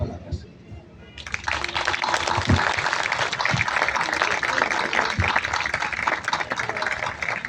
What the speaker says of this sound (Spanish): Fuertes los aplausos nuevamente, porque es de verdad un merecido homenaje a Chillico